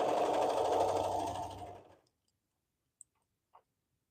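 A sewing machine stitches fabric in a fast, dense whir for about two seconds, then stops, leaving near silence broken by a couple of faint clicks.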